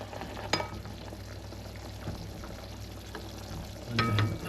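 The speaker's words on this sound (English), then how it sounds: "get into the 3. simmer for a minute or two." Meatballs simmer in a pan, a soft continuous bubbling and sizzle with a few clinks of a utensil against the pan near the start and end, fairly quiet and close, no voices.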